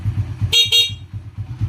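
Two short honks of a motorcycle horn sound over a steady idling engine rumble, close by.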